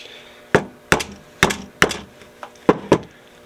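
Several sharp metallic taps of a hammer striking a flat screwdriver to pry apart a fish fin casting mold come in irregular pairs and singles, close by with no talking.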